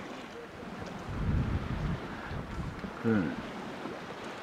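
Wind buffets a sailboat heading down the coast toward Cartagena, a rough steady rush with gusts swelling loud against the microphone, and a brief word spoken partway through.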